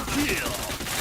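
A brief burst of rapid gunfire in the shooter video game Point Blank, loud and continuous, with a voice talking over it.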